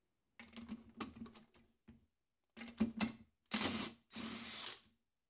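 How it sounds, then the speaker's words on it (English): An impact driver hammers at a big alternator pulley nut in short bursts of loud mechanical rattling, separated by pauses, close up with no voices. "Hopefully, an impact driver will handle this task."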